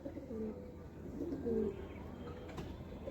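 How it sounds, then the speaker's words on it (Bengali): Pigeons coo softly in a loft, low throaty rolling calls repeating at a modest distance over quiet background rustle. "খুব সুন্দর কোয়ালিটির পায়রা রয়েছে"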